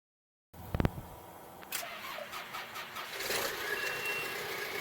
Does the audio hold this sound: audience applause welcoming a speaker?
no